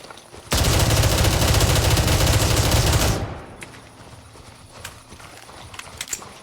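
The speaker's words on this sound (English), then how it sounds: "Yeah, we both fire loud guns." Loud gunfire in the Gray Zone Warfare shooter game: a sustained automatic burst of close, dense shots lasting about two and a half seconds, then quieter ambience with a few faint clicks.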